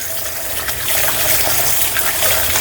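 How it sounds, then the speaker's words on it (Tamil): Water running steadily from a tap over rice being rinsed in a pot or bowl, a continuous close splashing gush that grows slightly louder partway through, with no talking. "அரிசியை கழுவுவோம்."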